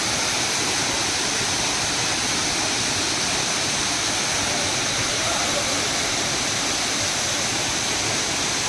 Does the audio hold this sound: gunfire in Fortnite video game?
no